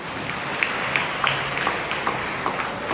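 An audience applauds at a farewell gathering for a parish vicar, steady moderate clapping from a crowd with a few sharper individual claps standing out, continuing throughout.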